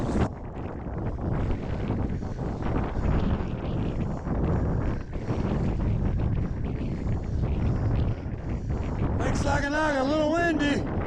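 Steady wind on a lake buffets the microphone in a constant rushing roar, with a brief whistling, warbling sound near the end.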